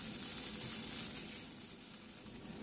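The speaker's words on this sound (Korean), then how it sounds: "랍스터 맛살은 1분 정도 볶아주세요" Lobster-flavored crab sticks stir-fry over medium heat in sesame oil in a preheated pan, giving a soft, continuous hiss and light sizzle, fairly quiet and even throughout.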